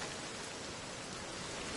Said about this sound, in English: It's just on regular calm weather, so like regular rain and stuff.